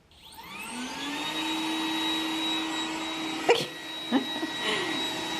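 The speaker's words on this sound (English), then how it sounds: "Let's run the Roomba while I'm upstairs getting ready." A Roomba robot vacuum cleaner runs steadily at close range, its motor whine and brush hum rising as it starts and holding constant, with a few brief knocks and bumps part way through and no talk.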